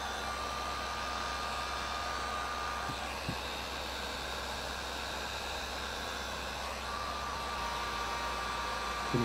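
A heat gun blows hot air to shrink large heat shrink tubing over ferrite beads on RG-316 coax cable, a steady loud broadband whoosh with a faint hum running throughout, close by.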